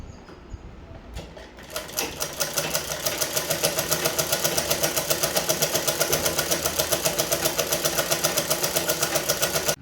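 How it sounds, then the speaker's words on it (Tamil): A sewing machine stitching a pillow starts up and then runs in a fast, even mechanical chatter of rapid needle strokes, loud and close, with nothing else over it. "அதனால இதில் இன்னும் ஒரு தையலை போட்டுக்கிடுவோம்."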